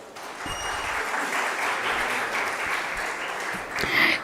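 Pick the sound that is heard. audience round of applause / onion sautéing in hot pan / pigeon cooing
audience round of applause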